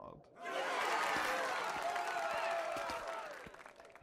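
Crowd applause and cheering in the video game Dreams, a broad, dense wash of clapping that swells in and holds steady for a few seconds, with a voice talking over it.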